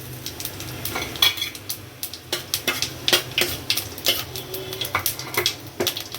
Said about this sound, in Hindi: अब सबसे पहले जीरा डाल रही हूँ